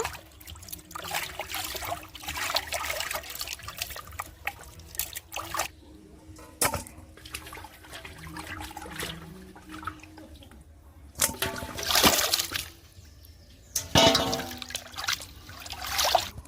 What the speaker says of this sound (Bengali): বন্ধুরা মাছটা কাটা হয়ে গেছে এবার মাছটা ধুয়ে নেব